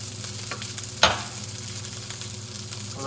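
Fried rice sizzling in a non-stick wok on an electric stove, with a steady hiss of frying and scraping stir strokes, one sharp clack of the utensil against the pan near the start.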